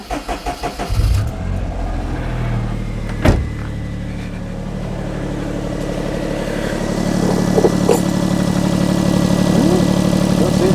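A convertible car's engine starts on a cold winter day, cranking briefly and then catching into a steady, close idle that gradually grows a little louder.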